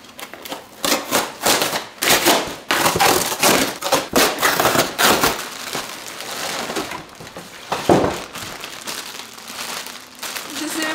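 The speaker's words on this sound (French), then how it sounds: "je me suis commandé une toile sur Amazon. On va la déballer" Unboxing a canvas print ordered from Amazon, with loud crinkling, tearing and crumpling of packaging in bursts close to the listener, and a voice speaking at times between the rustles.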